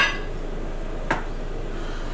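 A metal lid set onto a cooking pot of braised pork belly on a stove, one short clink standing alone against a quiet kitchen hum.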